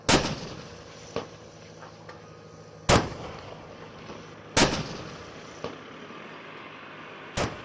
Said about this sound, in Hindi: तो आपने देखा कि किस तरह से आर्टिलरी के जरिए लगातार गाजा में अलग अलग जगह को निशाने बनाए जा रहे हैं